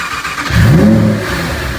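A Lamborghini Huracan Tecnica stuck in limp mode revs up once, a loud nearby engine rising briefly in pitch and then falling back, capped below 3,000 RPM.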